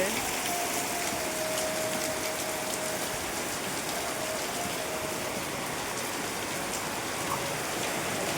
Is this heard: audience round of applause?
no